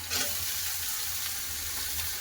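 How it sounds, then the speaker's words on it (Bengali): Sliced beetroot frying in hot oil with chopped onion and green chili makes a soft, even sizzle that hisses steadily for a brief moment with no one speaking. "তেল গরম হয়ে গেছে দিয়ে দিচ্ছি পেঁয়াজ কাটা কাঁচা লঙ্কা কাটা বেশি ভাজবো না বিটের সাথে ভাজাই হয়ে যাবে দিয়ে দিচ্ছি বিট"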